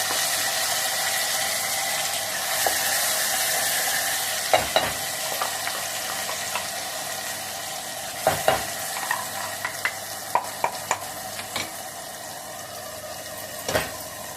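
Thick Guntur kara chutney bubbling and sizzling in a pan, with a spoon scraping and stirring, occasional sharp clinks against the metal.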